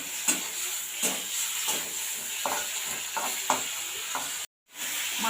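Fish fat fries in oil for a fish-oil chorchori, a continuous close sizzle broken by regular scraping stirs about every half second, with a brief dropout near the end and no voices.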